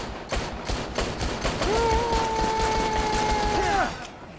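Rapid gunfire bursts from a firearm in the zombie video game Dead Rising 3, a dense stream of shots running throughout with a sustained tonal whine mixed in partway through.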